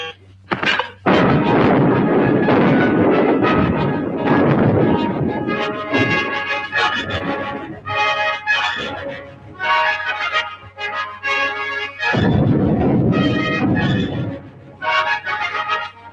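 A naval gun firing in a wartime film scene, heavy booming blasts repeating in bursts with a loud roar decaying between them, alone without talk.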